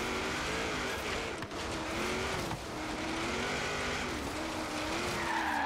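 Race car in a Motorsport driving game screeching its tires through a curve, a sustained loud skid squeal over a wavering engine drone, continuous for several seconds with no talk.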